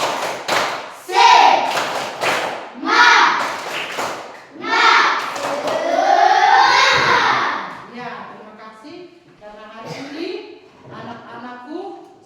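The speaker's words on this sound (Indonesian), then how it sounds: "Coba tepuk semangat." Children at school chant and clap the tepuk semangat routine together, rhythmic bursts of group clapping and thumps alternating with young voices calling out, fairly close.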